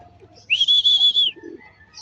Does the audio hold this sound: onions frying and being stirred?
no